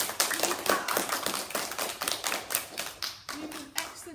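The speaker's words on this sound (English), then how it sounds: "give yourselves a round of applause." Children clap along after a yoga pose, a rapid run of sharp, close hand claps, slightly irregular and fairly light, with little talk over them.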